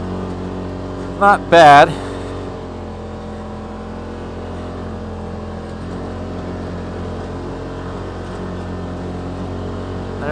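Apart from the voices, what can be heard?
Tusk Terrabite tires spinning in snow on a 2018 RZR XP Turbo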